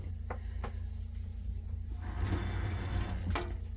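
Water starts running from a newly installed sink faucet in a small living space, a close, steady splashing rush that begins after a couple of clicks and a low background hum.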